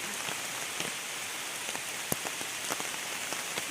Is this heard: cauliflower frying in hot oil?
no